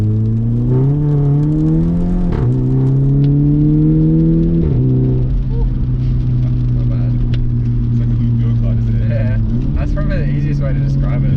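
A Volkswagen MK6 Golf GTI engine revs loudly and up close during a launch, the pitch climbing in steps and settling into a sustained high drone. The engine runs continuously and dominates throughout.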